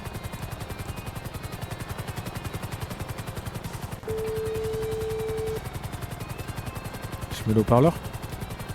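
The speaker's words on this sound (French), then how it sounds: "J'ai vu qu'on arrive en hélico." Video-game helicopter rotor beating steadily throughout, loud and close, with a brief tone and a burst of other game sounds near the end; a person talks over it.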